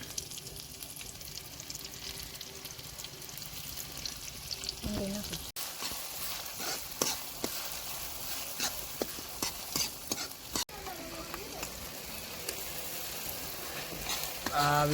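Onion paste sizzling in hot oil in a pan, a steady frying crackle with occasional stirring scrapes and a person talking over it.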